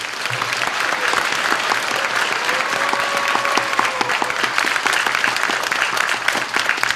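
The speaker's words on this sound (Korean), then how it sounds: "우리 모두를 격려하는 환영의 박수 보내주시기 바랍니다" Party members and guests at a regional party launch event give sustained, welcoming applause, a thick continuous wash of many clapping hands that holds steady throughout.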